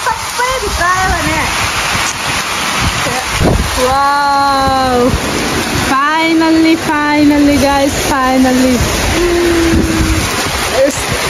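Heavy rain pours in a steady, close hiss while an excited voice talks loudly over it almost throughout.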